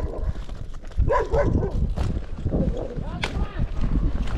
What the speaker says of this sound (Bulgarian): бръзвайте ги тия кучета, бе!